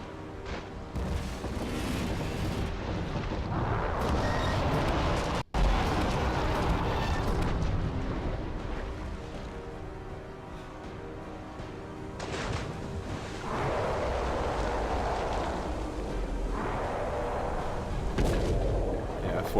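Gunshots in the Call of Cthulhu: Dark Corners of the Earth video game, booming reports over a dense, loud game soundscape with one sharp crack standing out, and a voice talking underneath.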